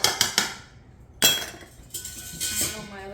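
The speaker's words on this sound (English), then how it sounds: "Lightly whisk that together so the ingredients incorporate" A whisk clinks and scrapes against a bowl while mixing flour, cinnamon and baking soda, giving a few sharp metallic taps followed by brisk rattling strokes, close and fairly loud.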